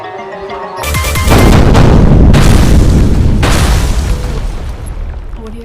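A Diwali firecracker bomb goes off with a loud, close boom that swells into a long, roaring rumble and burst of crackling, then slowly fades over several seconds.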